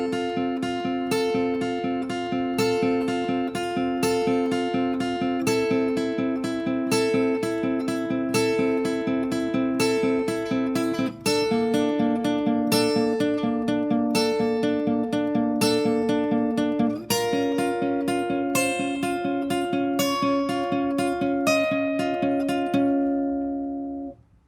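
Acoustic guitar playing the full picking pattern of a song, a steady stream of plucked arpeggiated notes with chord changes, clear and close for about twenty-four seconds, no talking.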